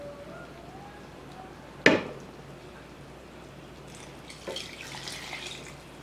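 Water poured into a pot of birria consommé, a sharp splash followed by a quieter trickle and a second softer pour near the end, close and fairly loud over a quiet kitchen.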